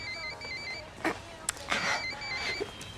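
A telephone rings in repeated electronic bursts in an animated equestrian series episode, fairly clear over a quiet room with a few soft knocks and movements.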